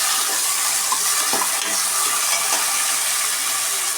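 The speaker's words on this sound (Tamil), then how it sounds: "எண்ணெயிலே நல்லா வதங்கட்டும்" Beans and green peas sauté in oil in a pan over a low simmering flame, making a dense, steady, loud sizzle with faint stirring scrapes beneath it and no voices.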